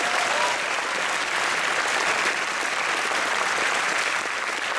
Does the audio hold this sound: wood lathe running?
no